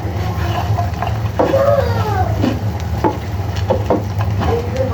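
Fried puti fish tipped into a pan of sizzling onions, a steady close frying hiss with soft stirring scrapes and a few clinks, and a voice talking briefly.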